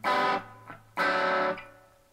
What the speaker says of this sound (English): The second clean channel, this one has a little bit more punch to it